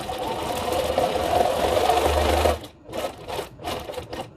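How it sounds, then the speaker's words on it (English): A sewing machine stitches the bottom seam of a nautical-design fabric mask, running in a fast steady whir for a few seconds, then stopping and restarting in short bursts up close. "move all the seams out of the way and sew the bottom"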